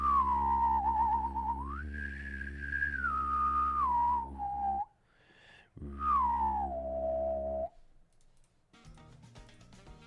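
A single voice hums and whistles at the same time to imitate lightsaber sounds: a wavering whistle rides over a low buzzing hum in two long, sweeping passes with a short gap between them, close and fairly loud.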